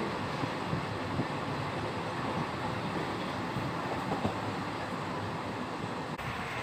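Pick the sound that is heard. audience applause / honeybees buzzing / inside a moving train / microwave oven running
inside a moving train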